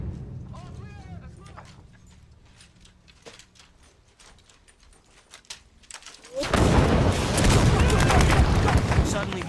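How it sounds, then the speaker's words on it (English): A Vietnam War documentary scene in which mortars and gunfire suddenly come in from all sides. Dense, loud firing and explosions erupt partway through and continue as a sustained roar. Quieter background sounds and voices come before the onset. "Suddenly, mortars and gunfire are flying in from everywhere."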